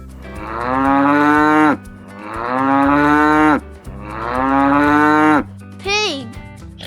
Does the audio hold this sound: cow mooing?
yes